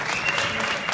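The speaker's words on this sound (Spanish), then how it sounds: "Un aplauso para ella." An audience at an awards ceremony applauds, a dense, steady wash of clapping from many hands that stays even and moderately loud throughout.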